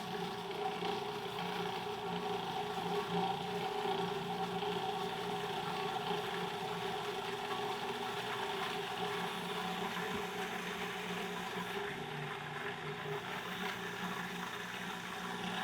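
A blender runs steadily and loudly, whirring a thick sauce of Greek yogurt, lime and olive oil for cilantro lime chicken, with no talking over the constant motor hum.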